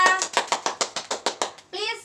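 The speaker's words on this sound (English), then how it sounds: "give applause to Eva" A few children in a classroom clap in a quick, rhythmic series of about ten close, distinct claps, followed by a voice.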